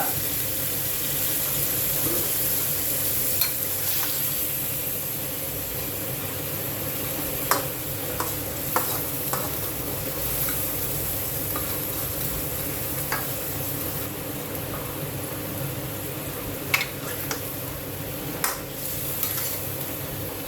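Pork ribs and pork belly fry with a little water in a pan, giving a soft, even sizzle with scattered clicks and scrapes of stirring, fairly faint and without talk.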